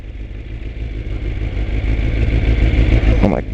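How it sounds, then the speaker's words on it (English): A motorcycle runs unevenly, its engine note rising and falling in a rough, wavering drone close by, ending in a brief clattering burst. "Oh, my bike's being weird."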